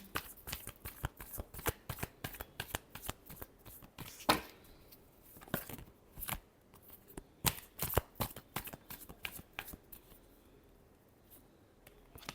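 Tarot cards being shuffled by hand, a quick run of crisp riffling flicks and slaps repeating close up in a quiet room.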